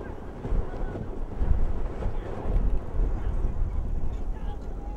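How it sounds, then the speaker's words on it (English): Strong gusty wind buffeting the microphone over open water at a women's rowing race, with rumbling bursts and a voice talking faintly underneath. "Very windy out here at the top of the course."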